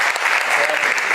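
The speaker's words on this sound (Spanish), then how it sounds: "Le damos un fuerte aplauso, por favor, al doctor." Audience applause at a formal event honouring a doctor, steady dense clapping from many hands filling the whole short moment, with no pauses.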